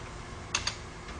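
Two quick keystrokes on a computer numeric keypad, close and crisp, separated by a brief pause against a quiet room background.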